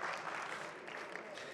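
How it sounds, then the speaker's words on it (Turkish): Audience applause at an international award ceremony for imams and preachers, a steady wash of clapping from a crowd that holds evenly throughout the short stretch, with no speech over it. "Alkışlıyoruz, teşekkür ediyoruz"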